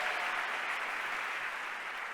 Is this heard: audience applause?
yes